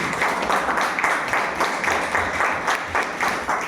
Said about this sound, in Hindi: तो एक बार जोरदार तालियां अपने लिए।